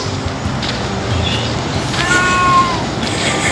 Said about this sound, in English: We have a couple of noisy kitties here.